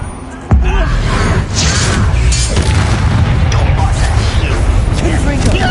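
A sudden booming burst from the Arresto Momentum spell in a Harry Potter video game, starting abruptly after a short lead-in and followed by a loud, continuous rumbling wash of effects.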